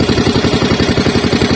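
A 19.5 Pro Quip gasoline engine runs on a test drive, a loud, close, rapidly pulsing putter with steady rhythmic clatter throughout.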